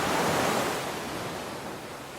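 Ocean waves wash in as a broad, steady roar of surf that slowly eases back, heard alone with no voices.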